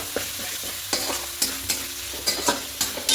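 Potatoes are stirred and sautéed in a pan, their soft sizzle punctuated by regular scraping strokes of a spoon, close and moderately loud.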